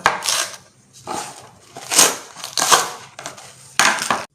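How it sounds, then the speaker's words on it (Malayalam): A knife cutting banana leaf into small pieces on a board, a series of crisp crunching chops in short bursts with quiet gaps between, close and fairly clear. "നമ്മളിനി ഇല ചെറുതായി മുറിച്ചിടലാണ്"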